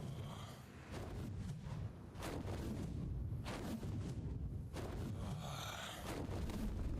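Cannons fire at an adobe base in ARK: Survival Evolved, several heavy booming blasts in quick, irregular succession over a dense, continuous rumble.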